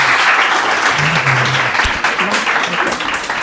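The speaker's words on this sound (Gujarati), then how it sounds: "જોરદાર તાળીઓ" A crowd at a school annual function applauding loudly and steadily throughout, with a few murmuring voices underneath.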